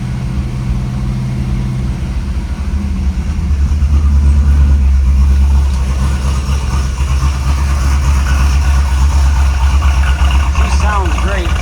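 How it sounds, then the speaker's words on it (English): Idling 351 V8 in a rotisserie-restored 1969 Ford Mustang Fastback with a 4-speed, a steady loud low rumble that swells around four seconds in and holds, with a voice briefly audible near the end. "She's got a pretty healthy engine in her."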